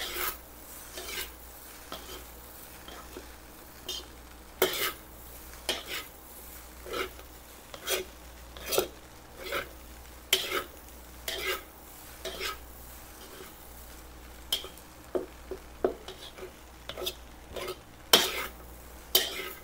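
Fried rice with shrimp and ham is stirred in a pan, the utensil scraping and clinking against the metal in irregular strokes, some louder and sharper than others, close by with a faint sizzle and no talk.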